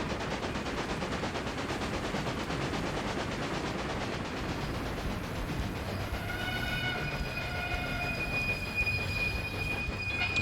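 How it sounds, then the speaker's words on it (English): Trains running on rails in Railway Empire, a railway management game, with a steady rolling rumble of wheels on track throughout and a high squealing and ringing building in the last few seconds as a train slows. "Okay, looks like he's got to stop for the other train."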